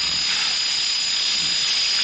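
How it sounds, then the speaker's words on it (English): High, steady whine of a power drill in a Lucio Fulci horror film kill scene, a continuous piercing motor tone with a dense buzzing layer that holds loud and unbroken throughout. "here we have a fantastic drill death."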